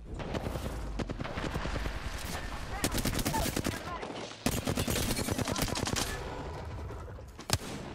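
Wingman pistol shots from Apex Legends ring out in quick, sharp repeated bursts amid other gunfire, with a voice talking in between.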